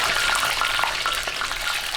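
Lechon kawali pork skin fries over high heat in hot oil, giving a loud, close, continuous crackling sizzle with dense popping and no voices.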